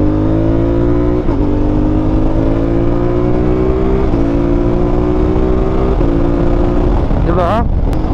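A CF Moto 450MT motorcycle engine revs hard and climbs steadily through the gears, with quick-shifter upshifts cutting in briefly at intervals. The loud, continuous drone has a short whine near the end.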